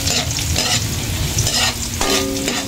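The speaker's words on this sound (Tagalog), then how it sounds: "Yan po, ginigisa po natin. Ang ricado po. Sibuyas at bawang." Onion and garlic sautéing in a pan, a loud, close, continuous sizzle with steady stirring and scraping throughout.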